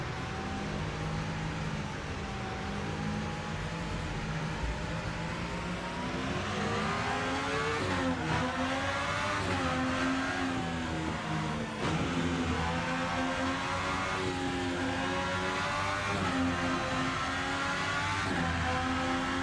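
Mercedes C-Class race car in a sim racing game, its engine droning loudly and continuously with rising revs and quick gear shifts cutting the pitch, no talk.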